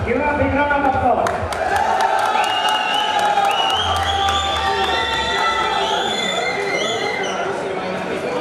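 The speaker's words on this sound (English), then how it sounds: "Give a big round of applause." An auditorium audience at a college prize distribution claps and cheers, a full, continuous burst of applause mixed with crowd chatter and a few shouts, while music or a tonal voice rings over it.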